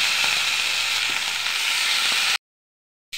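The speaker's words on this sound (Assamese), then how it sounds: "এতিয়া মই কোমোৰাও দি দিছোঁ।" Chopped onion, green chili and pumpkin fry in a pan for an Assamese home-style dish, giving a steady, close, broadband sizzle with faint stirring scrapes that stops abruptly near the end.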